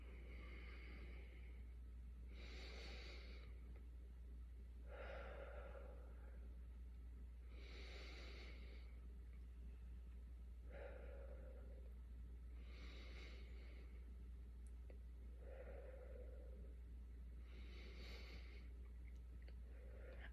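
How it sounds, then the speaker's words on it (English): Slow, deep breathing during a meditation exercise: about eight long inhales and exhales in an even rhythm, faint and close, over a low steady hum, with no talking. "We're going to start off by taking 6 deep breaths."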